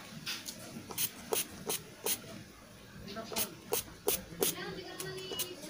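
Several short, sharp spritzes from a spray bottle applying homemade fungicide to plants come in quick bursts, some in pairs, with faint rustling between them.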